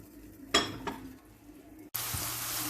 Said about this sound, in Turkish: Evet kızartma tavama az bir yağ koydum.